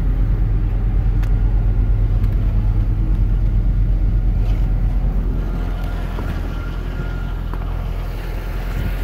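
Factory-exhaust 2002 Chevrolet Corvette engine idling with a steady, loud low rumble throughout, no aftermarket parts, with faint wind noise over the microphone.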